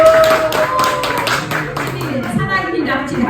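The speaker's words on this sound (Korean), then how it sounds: "박수!" Audience at a workshop breaking into clapping, a burst of scattered claps that thins out over a few seconds while a voice talks over it.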